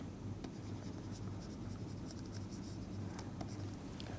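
A pen writing and marking on an exam answer sheet, faint scratchy strokes over a low steady hum, with a few light taps as the pen touches down.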